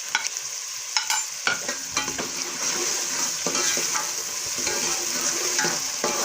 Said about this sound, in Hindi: थोड़ी देर इसको फ्राई करेंगे।